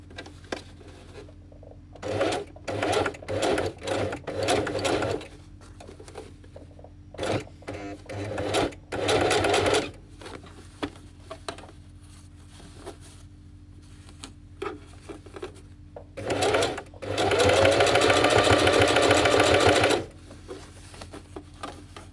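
A Singer 4411 domestic sewing machine hems denim jeans in repeated bursts of rapid, close stitching, from short runs to a sustained three-second run, with quiet pauses between.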